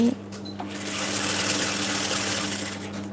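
A sewing machine stitches a narrow double-folded hem with an ordinary presser foot, running as a steady, close, continuous mechanical whir with a fast stitching rhythm throughout.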